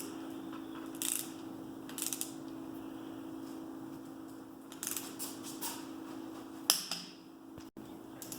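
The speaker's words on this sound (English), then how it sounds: "Now I torque all the rod bolts to 55." A torque wrench tightens engine connecting-rod bolts to 55, producing several quick ratcheting clicks in short bursts spaced a second or so apart over a faint steady hum, ending in a sharp click.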